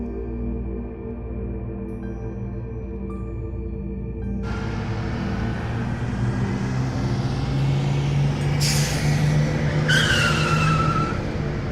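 A bus pulls up at a roadside stop on the way to Shimla, its engine rumbling closer and louder, ending with two sharp hissing squeals of air brakes near the end, no talk.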